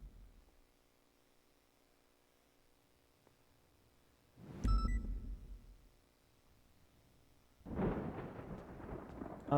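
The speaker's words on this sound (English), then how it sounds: "Oh, thunderstorm. Nice." Thunder from a thunderstorm in GTA V on the NoPixel roleplay server rolls in as two separate low rumbles, the first a sharp crack-like burst and the second a longer, fainter rumble over a quiet background.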